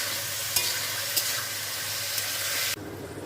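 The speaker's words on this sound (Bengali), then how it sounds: "নুন দিয়ে খুব ভালো করে ভাজবো, আর গ্যাসের ফ্লেমটা বাড়ানো থাকবে" Vegetables frying with salt in a pan over a high gas flame, a loud continuous hiss and sizzle with a few sharp clicks of stirring, close up, cutting off abruptly near the end.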